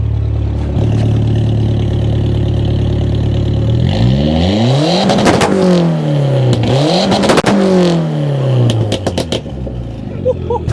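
A Peugeot 405 TCT drag car engine idles roughly, then revs hard in repeated rising and falling sweeps, the exhaust roaring and crackling up close.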